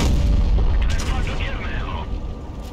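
A tank cannon fires in World of Tanks Blitz, the Vz. 55 landing a shot on an enemy ammo rack: a heavy boom at the start, then a rumbling, fading tail with metallic ringing, under commentary.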